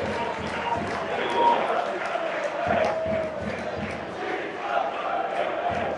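A football crowd at FC Halifax Town against AFC Fylde chants in a covered stand, a roaring communal din with a rhythmic pulse, while a commentator talks over it.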